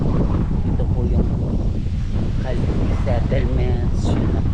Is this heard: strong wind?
yes